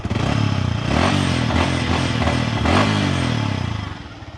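A secondhand motorcycle's engine runs close by, a loud steady rumble with a smooth, even idle that lightly rises and settles, with no voices over it.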